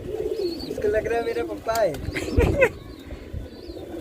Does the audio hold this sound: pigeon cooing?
yes